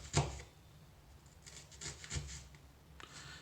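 A knife slices through an onion on a cutting board, a few soft scraping and rubbing strokes with a sharp tap at the start, quiet and close with no talking.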